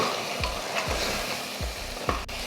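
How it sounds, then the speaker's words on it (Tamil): Ground masala being sautéed and stirred in hot oil for a Tamil mutton curry, a steady close sizzle with repeated scraping stir strokes roughly every half second, no talking. "மசாலா போட்டதுக்கப்புறம் அந்த எண்ணெயில் மறுபடியும் இந்த அரைச்சிருக்கோம் இல்லையா அந்த மசாலா அதையும் சேர்த்து நல்லா கலந்து விடலாம்."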